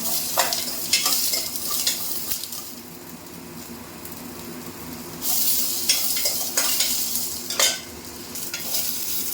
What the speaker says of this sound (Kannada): ಇವಾಗ ಈರುಳ್ಳಿ ಬೆಳ್ಳುಳ್ಳಿ ಫ್ರೈ ಆಗಿದೆ.